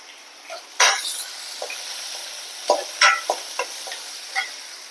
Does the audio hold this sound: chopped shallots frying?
yes